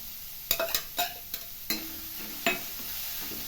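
Chopped spinach stems sizzle in a hot pan while a spoon stirs them, giving several sharp scraping clicks over a soft, steady frying hiss.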